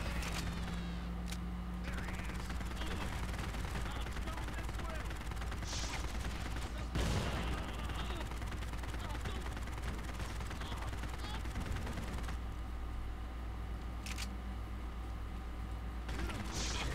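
Dense, continuous automatic gunfire from the Postal: Redux video game, a steady rattling fusillade running the full length with a few sharper bursts, heard alone without talk.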